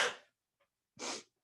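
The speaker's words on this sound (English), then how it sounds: "It's real life. I sneezed." A single close sneeze: a sharp breathy burst, a brief silence with a faint catch of breath, then a second forceful exhale.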